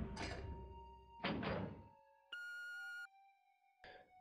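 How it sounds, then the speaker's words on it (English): Heavy levers clunk down one at a time in Resident Evil HD Remaster, several separate mechanical thunks, each followed by a ringing electronic tone, with quiet gaps in between. "We've got these levers now with the green lights on, so we can pull them all down."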